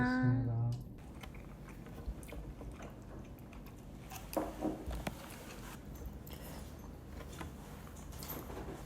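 Quiet chewing and soft bites while eating lobster, fried seafood and tiramisu at home in Italy, faint intermittent mouth sounds and utensil touches over a low room background after a brief voice at the start.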